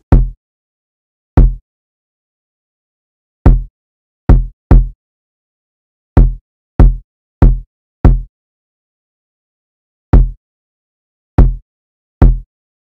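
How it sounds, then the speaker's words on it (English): A produced beat's drums, including a kick drum, play alone as sparse, punchy low thumps spaced irregularly across the stretch, each short and clean against silence. "I'll just play all those drums together."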